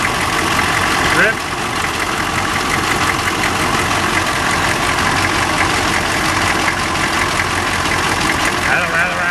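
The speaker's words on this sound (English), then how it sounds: "Rattle, rattle, rattle, rattle." A car engine idles steadily and loudly up close, with a continuous buzzing rattle running through the rough low hum. A person speaks over the engine noise.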